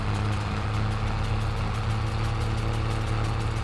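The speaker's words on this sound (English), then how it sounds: "It's just a loud tractor." Loud tractor engine in Farming Simulator 22, a steady, heavy low rumble held at a constant idle throughout with no change in pitch, close and unbroken.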